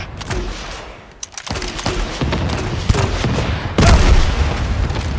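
An RPG rocket launcher fires and explodes in an online shooter match, with heavy continuous booms and gunfire layered densely over one another and a loud burst near the end.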